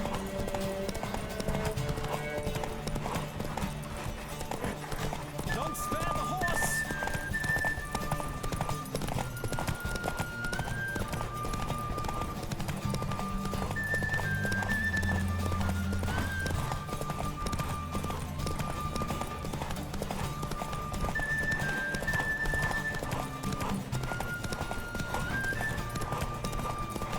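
A horse gallops steadily in The Witcher 3, with a continuous rapid rhythm of close hoofbeats and an occasional snort or whinny over a dense game soundtrack.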